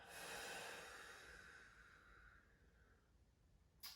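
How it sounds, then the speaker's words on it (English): A slow, deep exhale during a lying-back hamstring stretch in a yoga session for runners, a soft breathy rush that starts loud and fades gradually over several seconds, with no talking over it. "breathe out."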